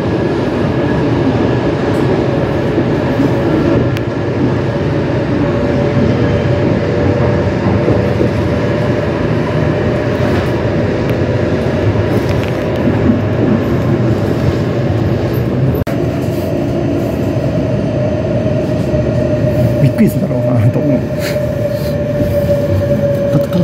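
Inside a Shinkansen station, an Asama service of the E7 or W7 series bound for Nagano gives off a loud, steady rail rumble with a sustained electric hum, continuous throughout and without speech.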